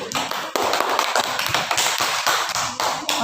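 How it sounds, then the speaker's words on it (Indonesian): Classmates in a school classroom clap for a friend, a dense, steady patter of many hands filling the room for a few seconds, with no talk over it. "Kasih tepuk tangan untuk kawannya."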